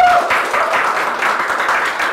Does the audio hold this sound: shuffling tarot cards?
no